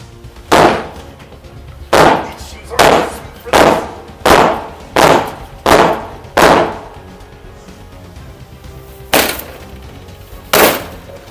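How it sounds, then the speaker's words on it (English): Police kick at a door in a series of heavy, booming impacts, roughly one every second, with a pause before two final blows, loud and close. "We're gonna kick your door open."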